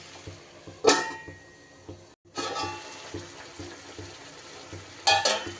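Hilsa fish bones and cabbage being stirred and cooked in a pan for a curry: a steady sizzle with scraping strokes, a few sharper clatters and a brief pause, close and fairly loud, with no talking.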